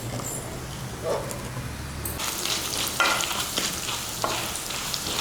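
Peppercorns fry in ghee with a steady sizzle that grows louder and busier partway through, as small crackles and stirring scrapes come up close, with no talk.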